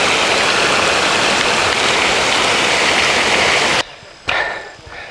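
The Bishnu River at Bishnu Dwar near Kathmandu, Nepal, rushes loudly as a clear mountain stream, a steady close roar of churning water that cuts off abruptly near the end, followed by quieter background.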